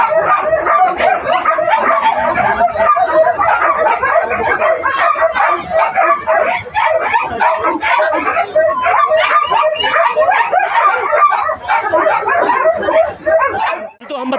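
Many dogs of assorted breeds bark, yip and whimper continuously at the Sonpur fair dog market, a dense, loud crowd of overlapping barks close by with voices mixed in.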